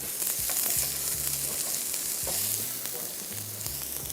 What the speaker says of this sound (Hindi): इसको थोड़ा सा करते हैं फ्राई।